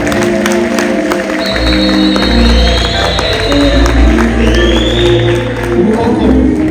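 An audience applauds at a church wedding ceremony, a steady wash of dense clapping kept up throughout while a voice carries on over it.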